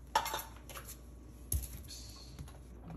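Baking soda and salt stirred together in a bowl for an Indian sweet potato vada batter, giving a few light clinks and scrapes of utensil against the bowl, close and quiet.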